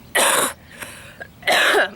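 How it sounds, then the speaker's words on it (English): Two loud, harsh coughs about a second apart, close to the microphone, with a faint throaty sound between them. "And of course with my luck I start coughing."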